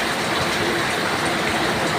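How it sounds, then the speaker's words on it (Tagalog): Heavy rain pouring down on a wet morning, a dense continuous hiss and rumble at steady loudness with no talk. "Ang lakas ng ulan talaga, oh."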